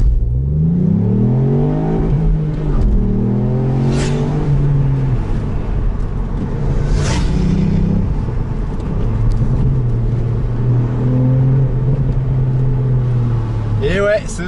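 A 2018 Ford Fiesta ST's engine climbs hard in pitch through several gear changes as it accelerates from a launch-control start, loud and steady, with a voice speaking over parts of it.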